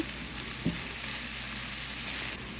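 Garlic and ginger paste fry with onion and chilli in a pan for dal chorchori, giving a steady, close hiss of sizzling with a brief stir clack early on and no voices.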